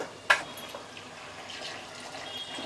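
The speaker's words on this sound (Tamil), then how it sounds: "தண்ணி ஊற்றணுங்க கேனில்." Water running and trickling into a can during house preparation work, a soft, steady liquid wash with a brief splash near the start, moderately close and fairly quiet, with no talking.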